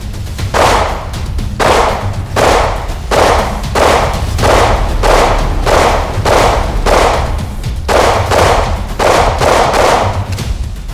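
Rounds from a Beretta APX Centurion pistol at a shooting range, about fourteen loud, evenly paced shots, each a heavy punchy crack with a short tail, fired in a steady rhythm.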